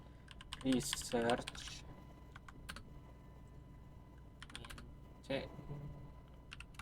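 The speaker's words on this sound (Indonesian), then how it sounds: "langsung kita akan ketik user add min G" Typing a Linux command on a computer keyboard, brief clusters of quiet, close key clicks in short runs, sitting under a person talking.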